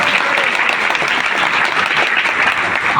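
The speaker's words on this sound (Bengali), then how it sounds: "একটা হাততালি চাই।" Steady, dense clapping from a seated audience at a talk, loud and continuous throughout with no voices over it.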